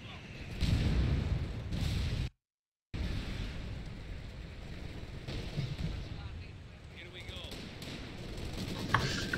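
Mortar and artillery fire in the Company of Heroes strategy game, several dull thumping blasts and rumbling impacts spread over the battle ambience, with a brief dropout partway through.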